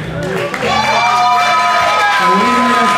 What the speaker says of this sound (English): Let's have a round of applause to the champion of the white belt open division.